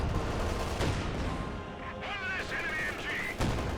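Bursts of MG34 machine gun fire in a Company of Heroes 2 battle, dense crackling shots mixed with other battlefield gunfire and explosions, steady and loud throughout, with a faint whistling tone partway through.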